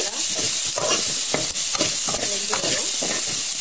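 Onions sautéing in a pan with garlic and salt, for a fish curry, make a close, loud sizzle broken by repeated scraping stirs of a spatula against the pan.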